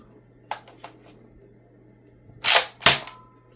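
An X-Shot Ejector Shell toy blaster fires and flings out its shells: two soft clicks of the action, then two sharp, loud snapping shots in quick succession, close up in a quiet room.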